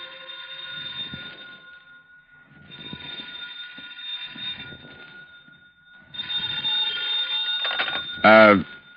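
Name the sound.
telephone ringing, old time radio sound effect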